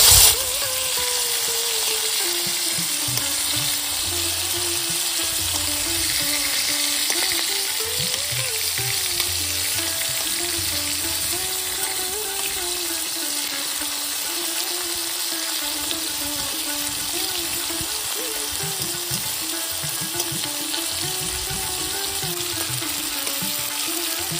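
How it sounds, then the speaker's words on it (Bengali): Prawns fry hard in a pan of hot oil for Bengali chingri malai curry, a loud continuous sizzle that goes on throughout, with occasional clinks of a spatula as the pieces are turned. "উল্টিয়ে দিচ্ছি মাছগুলো"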